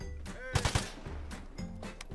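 AK rifle gunfire in the video game Vigor: several sharp, loud shots in quick succession near the start, set against a steady low game background rumble.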